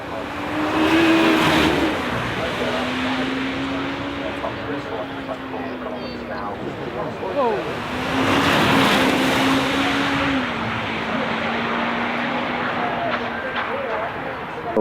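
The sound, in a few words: Czinger 21C hypercar driving up the hill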